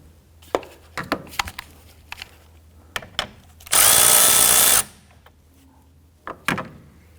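A power tool whirs continuously for about a second while loosening the 10mm nut on the battery of a 2017-2020 Hyundai Elantra, with scattered clicks and clunks of handling before and after.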